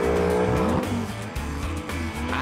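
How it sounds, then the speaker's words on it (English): Maserati Gran Cabrio with a Ferrari engine driving hard, its engine note rising and falling through revs with brief tire squeal, loud and close throughout. "The glamorous Maserati Gran Cabrio. This Italian beauty is powered by a Ferrari engine."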